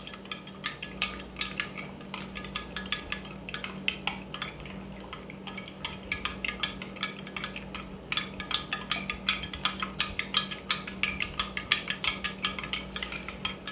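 A spoon stirs gelatin powder mixture in a container with quick, rhythmic scraping and clinking strokes that repeat steadily and fairly close for over ten seconds, with no voices over them.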